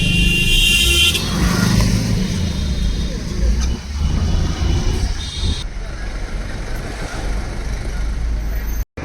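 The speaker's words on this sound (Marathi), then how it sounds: "गाड्या जात आहे रोडवरनं कारण आम्ही हायवेवर थांबलेलो आहोत" Cars and heavier vehicles roar past on a busy highway, heard from a roadside stop, continuous loud traffic rumble with swells as each passes, and people talking underneath.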